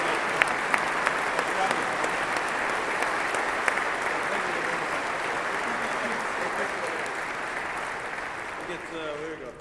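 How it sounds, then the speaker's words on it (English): A crowd gives a big round of applause at an event with the U.S. Army chief of staff, producing a sustained, even wash of clapping with a few louder claps near the start and faint voices underneath. "Give him one more big round of applause"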